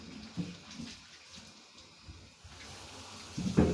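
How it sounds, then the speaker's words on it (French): Running water gushes and splashes in uneven bursts while a piece of furniture is rinsed, fairly faint and close, with a louder surge at the end. "Et on se prépare à rincer."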